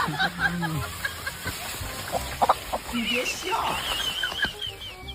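Chickens cluck and squawk nearby in scattered bursts, mixed with people talking and rustling in the background.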